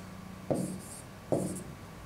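Chalk or marker writes on a board in two quick strokes, each a short scratchy squeak, close and fairly clear over faint room noise.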